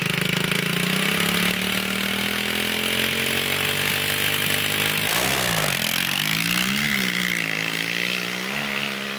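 Dirt bike engine screaming at high revs during a motocross race, a loud continuous buzzing whine that drops briefly midway as the gear is missed, then climbs again in rising and falling pitch sweeps, close and alone.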